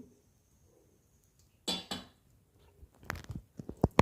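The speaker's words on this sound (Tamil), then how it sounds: "இப்போ மூடி போட்டு நல்லா மூடிக்கிறோம்" Metal lid set onto a cooking pot of chicken curry: a couple of clanks of metal on metal, then a quick run of small clinks and taps as it settles, heard alone and close.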